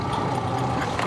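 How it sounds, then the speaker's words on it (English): Steady low rumble of several outboard boat engines idling, continuous and fairly loud with no pauses. "I want all of these outboards in idle"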